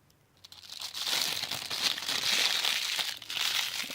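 Plastic wrapper being peeled off a red candle, a near, continuous crinkling and crackling that swells and stays busy for several seconds, with no talk.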